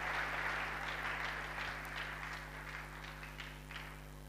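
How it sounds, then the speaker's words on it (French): A church congregation applauds for its guests, a broad steady wash of clapping that stays moderately distant and gradually eases, with no clear voices over it. "j'aimerais que le peuple de Dieu acclame encore pour tous nos invités"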